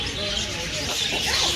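A parrot calls while a visitor feeds it during a trip to Thanjavur: a few short chirps and squawks, near but partly buried in loud, steady outdoor background noise.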